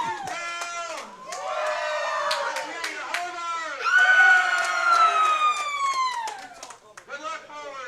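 An MC hypes the crowd at the Indiana middle school bowling state finals, a loud amplified voice with siren-like rising and falling whoops over a background of cheering spectators.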